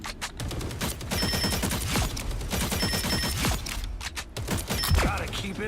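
Rapid, dense gunfire in the game Marvel Rivals while tracking targets: continuous bursts of loud, close automatic shots with mechanical clicks, filling the whole stretch.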